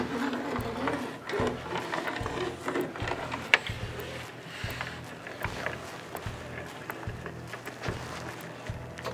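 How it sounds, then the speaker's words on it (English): A spline roller presses rubber spline deep into the channel of a patio screen door frame, making a steady rough rolling scrape with rhythmic ticks and bumps as it is pushed along. "use the convex side. And what that allows us to do is push that spline deep down into that channel"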